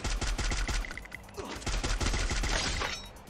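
Rapid gunfire in the shooter game Free Fire, dense bursts of sharp repeated shots cracking close and loud for most of the stretch before thinning out at the end.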